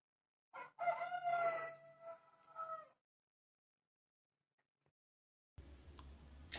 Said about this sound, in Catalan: L'escoltaràs cantar si ve matines